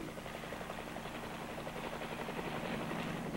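Military helicopter with a steady chopping rotor beat and engine drone, continuous and fairly even throughout, heard from some distance and without voices.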